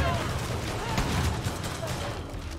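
A grenade explosion in the Far Cry 5 zombie expansion: a dense, roaring burst of blast noise filling the clip, loud and close.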